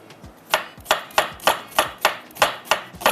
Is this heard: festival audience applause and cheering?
no